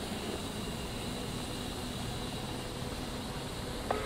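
An A-10C jet taxiing in a flight-sim game gives off a low, even engine drone that holds steady throughout, with no other sounds and no voices.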